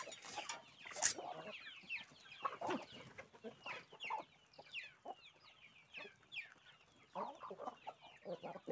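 Laying hens crowded close together cluck and squawk in a busy, overlapping chorus, with one loud squawk early on and steady clucking throughout, no talk.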